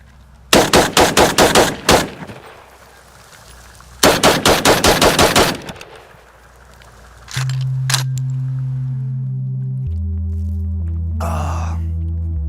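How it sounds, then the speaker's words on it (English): A Valmet AK-pattern rifle fires two loud, close, rapid bursts of about a dozen shots each, separated by a pause, followed by a steady electronic hum and a brief exhale. "Now we still have some ammo left, so I'm gonna shoot this other Valmet."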